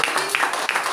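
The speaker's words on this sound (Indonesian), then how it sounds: "Tepuk tangan untuk kebenaran Tuhan." A church congregation claps hands together in a brief, dense burst of applause, with sharp overlapping claps filling the room.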